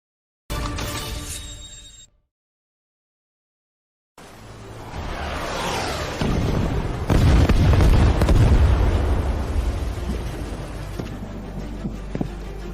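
A bazooka fires in an animated zombie scene set in a high-rise. A brief loud burst, then a gap of silence, then a deep rumbling explosion that swells and slowly fades.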